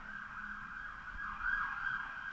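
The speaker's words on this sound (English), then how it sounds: "Fucking police cars everywhere." Police car sirens wail near a police station, one steady high tone that swells louder midway and holds there through the short stretch, with no talk over it.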